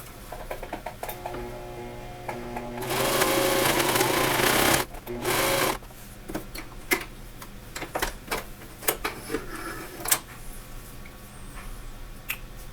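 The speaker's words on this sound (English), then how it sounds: "The slower you go, it's going to be a tighter sew" A sewing machine stitches a T-shirt in a patterned line, with a loud rapid rattling burst followed by short irregular ticking and clicking stitches up close.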